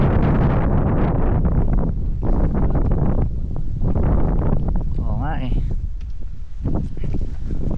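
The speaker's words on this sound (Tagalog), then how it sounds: "napakalakas pa din ang hangin" Strong wind buffets the microphone in low, rushing gusts while people talk over it outdoors in the mountains of Am-am, Tadian, Mountain Province, Philippines.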